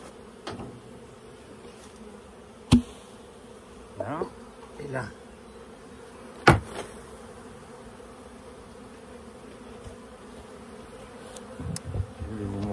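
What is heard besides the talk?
honeybees buzzing while shaken from a nucleus hive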